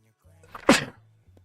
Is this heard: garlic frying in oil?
no